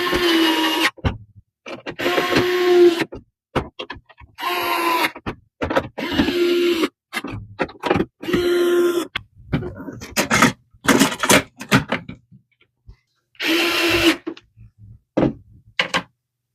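An HP OfficeJet 8125e-series printer runs after a printhead replacement, giving a series of mechanical whirring and clunking bursts separated by short pauses, close and fairly loud.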